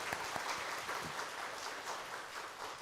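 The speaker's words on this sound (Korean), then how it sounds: "우리 박수 한번 하시겠습니다." A church congregation at a Sunday worship service applauds two elders who stand to be recognised, steady, fairly even clapping from a full room that carries on for about three seconds with no talk over it.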